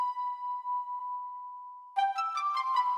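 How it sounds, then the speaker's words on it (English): A high, flute-like Roland D-50 synth using the Bohemian preset holds a pure sustained tone for about two seconds, then moves into a brighter run of quick repeated notes, clear and alone. "I got this little high, like flute sounding thing from D50"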